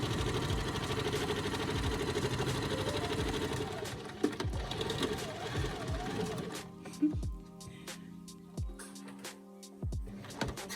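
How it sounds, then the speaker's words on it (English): A home sewing machine runs a fast straight stitch with a steady mechanical whir that stops partway, leaving only a few handling knocks and thumps. "I'm going to change it to the normal straight sewing"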